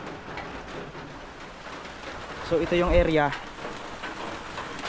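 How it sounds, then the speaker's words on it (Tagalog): Heavy rain pours steadily outdoors, heard from a spot sheltered from the downpour. It makes a continuous dense hiss throughout, and someone speaks briefly over it. "Grabe, napakalakas ng ulan mga kalahi."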